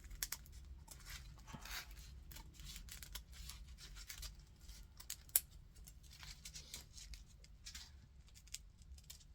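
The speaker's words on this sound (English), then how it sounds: "I lay my scissors right on top of that styrofoam, and so I'm going to be able to cut this right where I want it." Scissors snip through styrofoam craft foam in a run of quick, close, crisp cuts with irregular rhythm and soft crunching, alone without talk.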